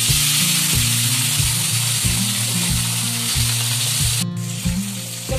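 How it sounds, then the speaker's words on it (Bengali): Pieces of fish fry one by one in a small amount of oil, a steady loud sizzle running throughout with a brief burst near the end, no talking. "মাছগুলো ভেজে ফেলি এক এক করে।"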